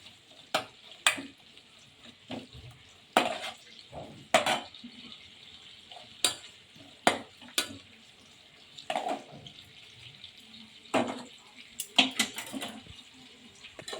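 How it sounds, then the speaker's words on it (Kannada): Mutton kaima gravy with onions frying in a pan, a low steady sizzle broken by repeated sharp scrapes and clatters of a spoon stirring against the metal, close and moderately loud, with no talking. "ಸ್ವಲ್ಪ ರೆಡ್ ಕಲರ್ ಆಗೋಂಗೆ ಫ್ರೈ ಮಾಡಬೇಕು."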